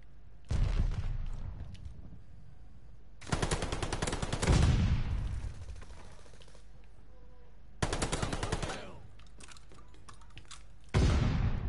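Gunfire and a grenade in the video game Call of Duty Vanguard: several sharp bursts of rapid automatic fire, loud and close, separated by short lulls, with a heavier rumbling blast partway through.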